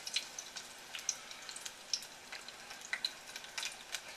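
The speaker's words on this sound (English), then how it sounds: "Pop them in a deep fat fryer, or if you don't have a deep fat fryer, a 2-quart skillet will work just fine." Tempura-battered shrimp deep fry in hot fat, giving a quiet, even bubbling with scattered crisp pops and crackles, soft and close.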